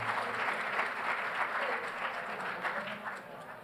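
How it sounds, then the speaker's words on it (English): Applause from a crowd at a school winter sports varsity awards ceremony, a steady wash of many hands clapping at moderate distance, fairly soft and sustained throughout. "Let's give them a round of applause."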